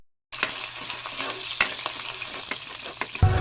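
Chicken pieces sizzle and fry in oil with garlic and onion while a utensil stirs and scrapes the pan in scattered strokes, close and steady, with no talking.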